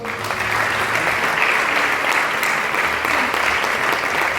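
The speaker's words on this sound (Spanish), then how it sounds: "un fuerte aplauso" Sustained applause from an audience at a nature conservation youth forum, steady and dense for the whole stretch with no break.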